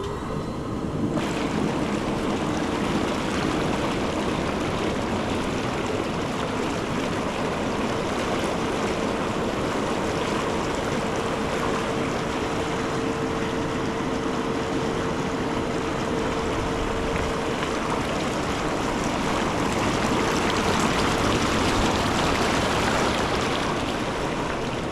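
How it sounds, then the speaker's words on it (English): Bubbles run in an Intex inflatable hot tub for the first time, a dense, continuous rushing roar of churning water and air that stays constant throughout with no talk. "let's go ahead and turn the bubbles on for the first time"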